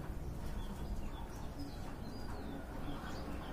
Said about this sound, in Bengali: এটা হচ্ছে রেড গিয়ারের কবুতর